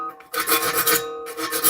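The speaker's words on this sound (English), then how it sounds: "So I'm just using a hand file." A hand file rasps across the teeth of a saw blade in two close, scratchy strokes, the first longer than the second, with nothing else audible.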